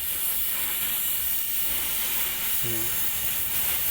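Gas flame torch welding a bracket onto a corroded car exhaust pipe, with no electric welding: a loud, steady broadband hiss runs unbroken throughout, with a brief tonal sound near the end.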